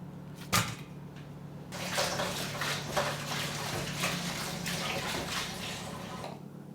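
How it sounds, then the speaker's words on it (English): Cauliflower leaves are rinsed in a colander under running kitchen water, after a sharp knock near the start. The water then pours steadily and fairly close, splashing continuously until it stops near the end. "I'm going to put them in a colander and give them a wash"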